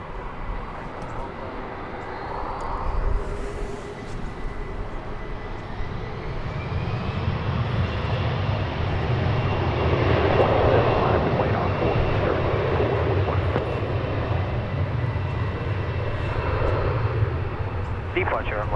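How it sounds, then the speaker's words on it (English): An American Airlines Airbus A321 jet at DFW Airport, a broad engine roar that builds and holds steadily at a distance, with a voice talking over it. "That is an American Airlines Airbus A321."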